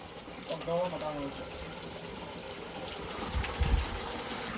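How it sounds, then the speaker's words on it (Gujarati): Water flowing out slowly to fill a makeshift outdoor village swimming pool: a low, continuous gush with people talking over it. "અહીંયા પાણી નીકળે ધીરે ધીરે."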